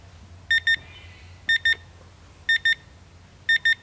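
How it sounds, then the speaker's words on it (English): A cooking timer at a state park campsite, used for Dutch oven calzones, beeps in four evenly spaced double-beep pairs, sharp and clear over a low outdoor hum. "Timer set for 10 more minutes."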